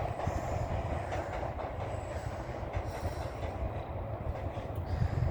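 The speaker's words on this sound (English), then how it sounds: "There's a train going into Rochester Station." A train rumbles past steadily into Rochester Station, its wheels clattering on the rails with a low, continuous roar and faint squeals.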